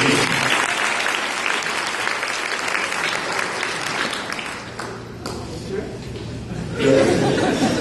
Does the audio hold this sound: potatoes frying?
no